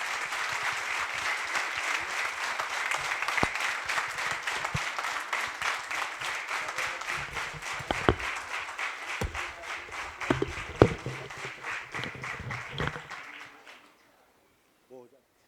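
Loud audience applause fills a session hall in Yavatmal, a dense, sustained clapping from a large crowd with a few sharper individual claps standing out, holding steady for most of the stretch before quickly dying away to silence.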